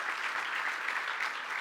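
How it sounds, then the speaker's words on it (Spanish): Audience applause after a science talk, a short stretch of steady, dense clapping from a crowd with no voices standing out. "un fuerte aplauso para los chicos"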